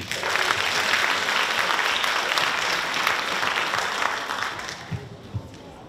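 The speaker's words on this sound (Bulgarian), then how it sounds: "Аплодисменти!" Loud crowd applause after a kindergarten children's majorette dance at a children's festival, with dense, rapid clapping that gradually thins and fades toward the end.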